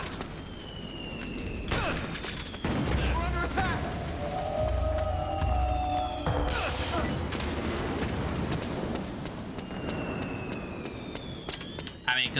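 Gunfire in the war-zone video game Metal Gear Solid 4: dense bursts and booms over continuous battle noise with mechanical clatter, loud and sustained throughout.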